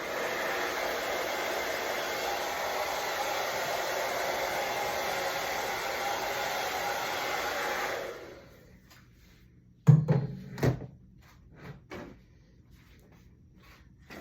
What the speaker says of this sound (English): I'm gonna hit you with a light cool shot from my dryer.